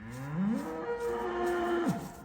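Several cows moo on a farm, one long, loud bellow rising and holding steady for nearly two seconds before dropping off, close by with no talking.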